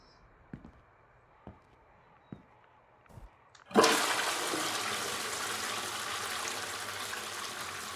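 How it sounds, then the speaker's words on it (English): A toilet flushes in the video game Classified Stories: several soft clicks and taps lead into a sudden loud gush of rushing water that keeps pouring steadily to the end, with no voices. "Toilet goes flush."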